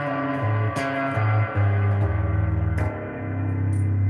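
Low bass guitar notes ring out one after another through a Joyo reverb pedal, each sustained with a washy, lingering tail; no voices.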